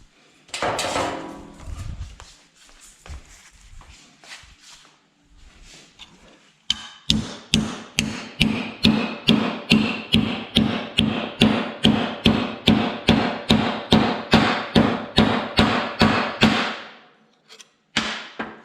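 A hammer knocks down a SPI epoxy-coated piece after seven years of wear: a few scattered blows, then a long run of about thirty loud, evenly spaced sharp strikes, close up, ending abruptly.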